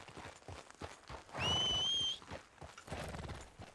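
A horse in Red Dead Redemption II gives a short, high whinny, with clip-clopping hooves before and after, quiet and fairly close.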